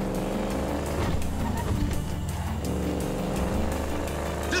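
Motorbike engine roaring steadily in Grand Theft Auto V, a loud continuous drone with slight revving over driving game sounds, with a faint tire squeal.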